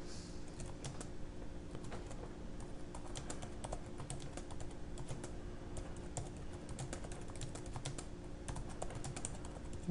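Steady continuous typing on a computer keyboard while entering text into a C++ program, close and even-paced clicking with no pauses across the whole stretch.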